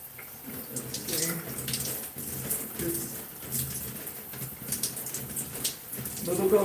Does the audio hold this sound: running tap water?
yes